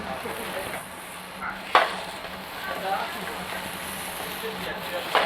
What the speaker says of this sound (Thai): เริ่มผัดแล้วครับ ผัดใส่เลย ซีอิ๊วขาวไปหน่อย เพื่อเพิ่มความหอม